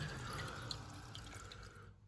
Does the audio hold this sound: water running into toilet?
yes